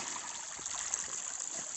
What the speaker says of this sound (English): now I'm just following this here creek.